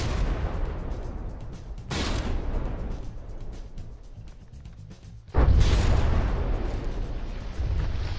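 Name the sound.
turret hit by artillery fire in From the Depths video game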